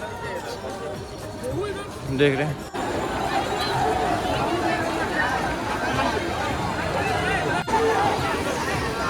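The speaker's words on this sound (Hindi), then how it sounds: "भीड़ देखें, आज रौनक अच्छे खासे हैं।" A large crowd at Har Ki Pauri ghat in Haridwar on a busy Sunday, with steady babble of many voices, chatter and movement close around and someone speaking over it.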